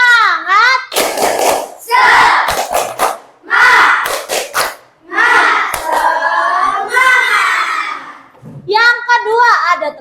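A group of children claps and chants in rhythmic bursts, loud and close, their voices rising and falling between sharp hand claps during a classroom clapping game.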